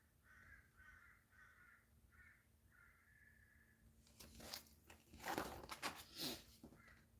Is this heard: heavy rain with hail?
no